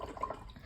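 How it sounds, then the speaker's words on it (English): A watercolor paintbrush being swished and rinsed in water, a brief soft liquid swirl with small drip-like splashes, quiet and close. "I wash my brush."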